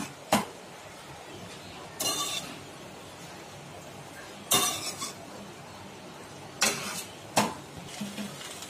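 A spoon stirs rice in a pan for tomato rice, with a few sharp scrapes and clinks at uneven gaps. Between them a quiet low sizzle hangs in the background, and no voice is heard.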